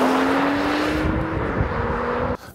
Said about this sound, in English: glorious turbocharged 6-cylinder 3-liter, which is not too much to upset the chassis, yet plenty to set your hair on fire